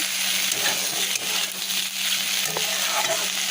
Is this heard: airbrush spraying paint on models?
no